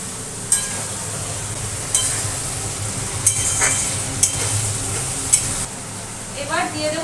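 Spiced masala cooking down with fresh coriander leaves in a pan of fish curry, a steady close sizzle of frying oil with repeated scraping stirs and a few sharp clinks of the spoon against the pot.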